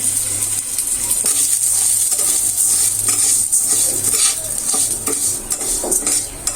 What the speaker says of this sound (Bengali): ডাউলটা সুন্দরভাবে ভেজে নিতে হবে।